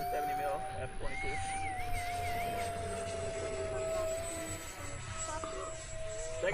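An F-22 Raptor jet at an airfield takes off, a steady loud engine roar with a long falling tone running through the clip, while people talk over it.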